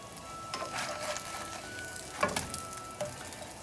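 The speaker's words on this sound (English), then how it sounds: "our eggplant is in our frying pan, and we're just going to get it a good brown on each side" Eggplant slices browning in a frying pan, a soft continuous sizzle with occasional sharper crackles and pops, fairly faint and close, no talk.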